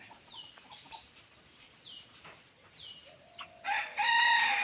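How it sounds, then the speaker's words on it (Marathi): A rooster in a village in the Konkan region crows loudly and close by at the end, after a few faint, sweeping bird calls in a quiet rural setting. "आहे ते कोंबडा आहे हा कोंबडा कोणाचा"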